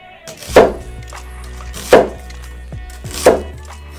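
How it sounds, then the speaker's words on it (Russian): Three firm knife chops slicing an onion into rings land on a cutting board, slow and evenly spaced, close up with quiet between strokes. "Кольцами нарезаем лук."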